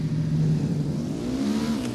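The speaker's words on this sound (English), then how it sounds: "I'm hearing engine noise." In the video game Tom Clancy's Ghost Recon Wildlands, a vehicle engine revs steadily and loudly, its pitch climbing slightly as it accelerates, close and alone with no talking.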